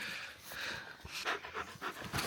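Sled dogs panting after a mountain dog sled ride: quick, rhythmic breaths close by, repeating in short bursts with no voices over them.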